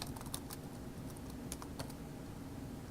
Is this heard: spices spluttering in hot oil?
no